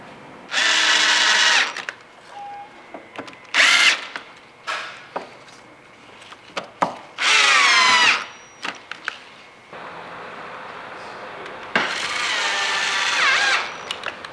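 A power drill drives a fender bolt on a car during an HID light installation, whirring in several loud close bursts of one to two seconds separated by short clicks and pauses.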